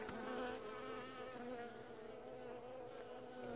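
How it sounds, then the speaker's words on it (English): Honey bees buzz steadily and close in a Newfoundland winter, a continuous humming drone with several wings overlapping, fairly quiet overall. "me fooling around with the bees"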